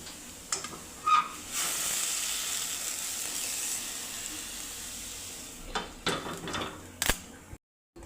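Hot water hitting a hot kadhai of roasted dried shrimp (soda) sets off a loud, sustained sizzle and hiss that eases off, with a few clinks of utensils and stirring scrapes, no talking.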